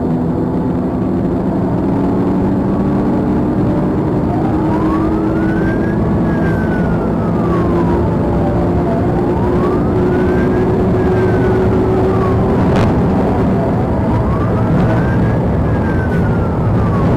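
Police car sirens wailing during a high-speed chase, loud and continuous, their tone rising and falling in slow repeated sweeps over a heavy vehicle rumble.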